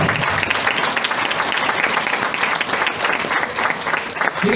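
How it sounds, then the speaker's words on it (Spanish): A church congregation gives a loud, sustained round of applause, dense clapping filling the room steadily from start to finish, with faint voices mixed in. "déle un fuerte aplauso al Señor"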